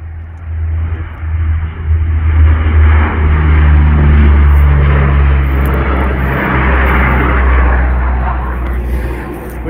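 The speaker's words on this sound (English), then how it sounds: "Oh, we got a bomber taking off." A water bomber aircraft takes off near a raging wildfire at Hay River, NT, its engine a loud sustained low rumble that swells and holds steady for several seconds, with faint voices beneath.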